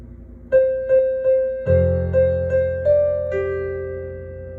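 Solo piano playing a phrase from a song: a handful of evenly spaced right-hand notes, then a deep left-hand note entering and sustaining underneath, moderately quiet and clear with no voice.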